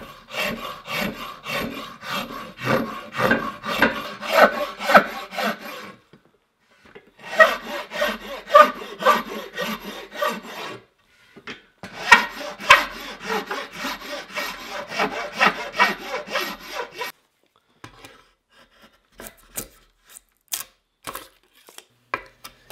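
A rasp scrapes the wooden belly of a Pacific yew self bow in quick, rough rhythmic strokes, close up, in three bursts separated by pauses, followed by a few scattered light knocks.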